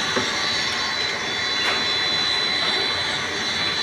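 A block-making machine with a gearbox runs nearby, a loud, steady, broadband mechanical roar with no break.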